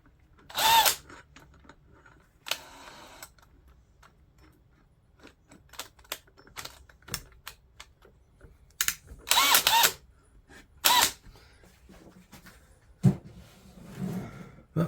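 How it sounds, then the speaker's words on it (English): A power drill bores bench dog holes into a woodworking table top, in several loud short bursts separated by quiet gaps, with small clicks and handling noises between them. "Then I guess we drill the hole."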